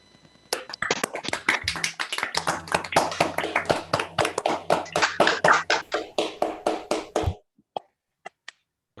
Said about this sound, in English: Everybody, please unmute yourself and applaud our speaker.